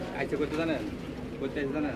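Pigeons coo at a busy pigeon market in Sarulia, Bangladesh, their soft repeated calls mixing with steady crowd chatter and voices close by.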